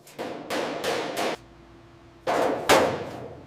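Sharp hammer blows ring against the metal body of a WWII Willys Jeep under restoration, a quick run of four strikes, a short pause, then two more heavy clanging hits, close and loud.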